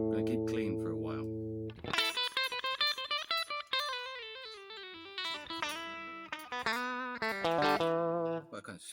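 A Line 6 Variax 500 electric guitar set to a clean Tele-style bridge pickup tone rings out alone, with a sustained chord followed by a run of bright, twangy single notes and chords plucked in an uneven rhythm.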